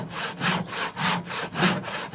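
Hand saw cutting wood for a Thai phin lute, a close, rhythmic back-and-forth rasp with about eight even strokes, no talking.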